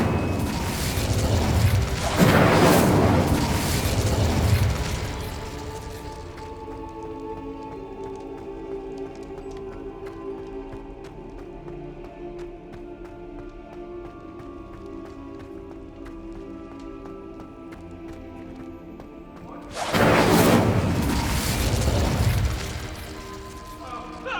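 Incendio fire spell blasts in Hogwarts Legacy: a loud roaring burst of flame at the start and another near the end, with a quieter tonal game score sustained between them.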